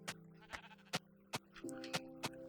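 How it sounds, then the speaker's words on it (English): A sheep in the survival game Past Hope Survival bleats twice in short, nasal, wavering calls, set against a rhythm of regular soft thumps. "How's it going, sheep?"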